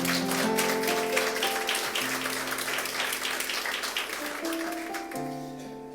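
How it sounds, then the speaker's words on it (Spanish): A church congregation applauds during a Sunday sermon, a sustained wash of clapping over held keyboard tones that shift pitch a few times. "Dale un aplauso al Señor"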